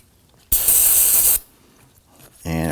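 Brake cleaner sprays onto the rear parking brake parts of a 2005-2009 Subaru Legacy in one loud, close hiss lasting about a second, followed by a short mechanical rattle.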